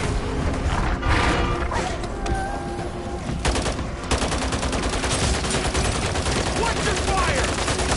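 Call of Duty gunfire: dense, continuous automatic bursts and sharp shots crackling loudly throughout, with a few heavier cracks and voices mixed in.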